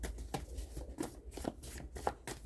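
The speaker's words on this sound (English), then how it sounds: "Three shuffles." Tarot cards being shuffled by hand in a quick series of soft riffling bursts and papery slaps, close and fairly quiet, with no voice over them.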